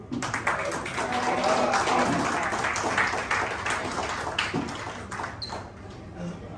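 Audience applause fills an awards and convocation ceremony hall in Indore, a dense steady patter of many hands clapping that tapers near the end, with faint voices in the room.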